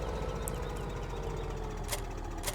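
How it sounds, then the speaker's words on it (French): Tractor engine in the farming game Farming Simulator 15 rumbles at a low, steady idle, with a couple of brief higher clicks over the hum. "je suis dans le tracteur à Michel"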